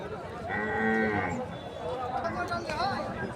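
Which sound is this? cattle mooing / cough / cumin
cattle mooing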